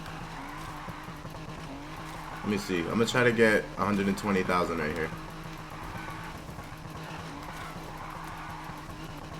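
Special edition Volkswagen Beetle drift build in a racing video game, tyres squealing in a loud burst of skidding mid-clip over a steady engine drone, with someone talking over the game throughout.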